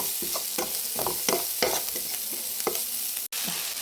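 Sliced onion with a little salt sautés in a pan, a steady close sizzle broken by regular scraping strokes of a spoon stirring about twice a second.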